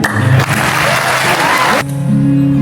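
Audience applause at a cultural evening event, a dense, loud wash of clapping that holds steady for nearly two seconds, then cuts off abruptly into a quieter room hum.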